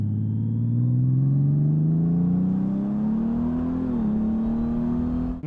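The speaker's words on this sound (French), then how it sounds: "quand on tourne la poignée, le moteur s'énerve un petit peu quand même, et ça sonne vraiment un petit peu comme une Porsche" A Honda Goldwing motorcycle engine revs up smoothly as the throttle is twisted, a steady loud low drone climbing gradually in pitch over several seconds with a brief dip near the end, with no talk.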